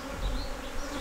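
Honeybees at a homestead hive give a dense close buzzing drone, steady and unbroken through the short moment.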